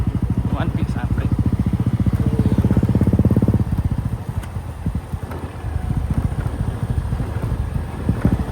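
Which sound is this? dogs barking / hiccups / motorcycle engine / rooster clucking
motorcycle engine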